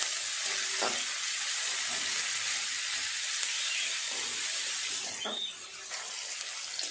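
Whole garam masala spices sizzle in hot oil in a pan as a steady, close frying hiss, with a couple of brief clicks of utensils, easing slightly near the end, with no voices.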